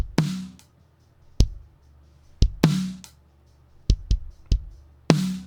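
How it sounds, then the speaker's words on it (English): Drum kit of kick, snare, rack and floor tom sent alone through a parallel compression bus with a fast-attack Dynacomp guitar-style compressor: punchy, tightly squashed hits in an irregular groove, with booming low thumps and sharp cracks cutting off quickly. "A lot of the punch from the drums is coming from a parallel compression bus that I applied"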